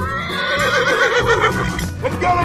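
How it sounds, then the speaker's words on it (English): A horse neighs loudly and continuously for over two seconds, a wavering, whinnying call close up with no one speaking, part of a guess-the-animal challenge. "Horse."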